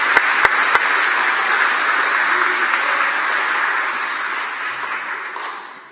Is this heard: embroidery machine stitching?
no